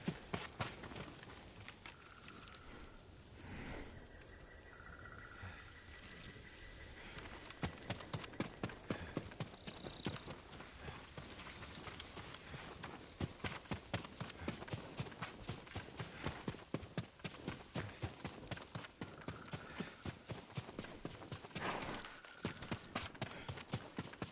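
Steady hoofbeats clip-clop at a brisk rhythm, a horse in a video game trotting away at moderate distance, continuing throughout without voices.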